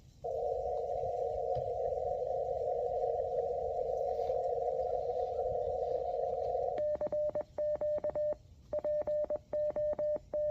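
A QMX radio transceiver sends a CQ call in Morse code, a series of fast beeping dits and dahs on a single tone. A long steady tone comes first, then the keyed bursts follow over faint background hiss.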